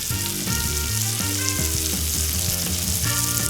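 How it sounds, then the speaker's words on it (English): Brussels sprouts sear flat side down in a hot pan, giving a loud, steady frying sizzle throughout with no voices. "I like to start it off with the flat side on the bottom. That way that gets nice and seared well."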